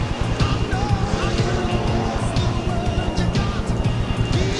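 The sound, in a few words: Formula 500 speedway race cars passing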